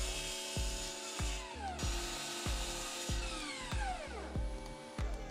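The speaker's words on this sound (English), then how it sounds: "then cut all the pieces to length at the miter saw" A miter saw cuts wooden pieces to length for a hand tool tote, giving a series of roughly six rhythmic bursts, each blade spin-up and cut winding down with a falling whine, close and fairly loud with no talking.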